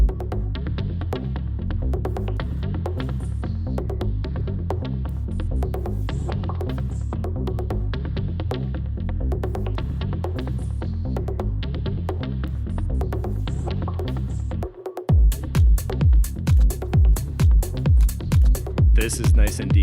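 Deep, throbbing synth bass drones steadily, then switches to punchy, evenly spaced low pulses near the end.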